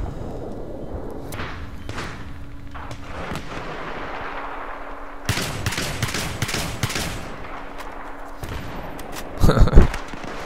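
A Saiga 12K shotgun loaded with frag rounds fires in a Battlefield 3 team deathmatch, with scattered booming blasts and then a tight burst of heavy explosive shots near the end, over game ambience and some talk.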